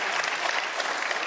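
A studio audience applauds an air traffic controller, with dense, continuous clapping close and loud from start to finish.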